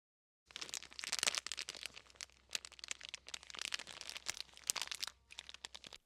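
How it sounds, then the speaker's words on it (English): Close, crackly crinkling of a plastic bag used as a percussion sound for music, in irregular bursts, rising and falling after a moment of silence. "That's just a plastic bag."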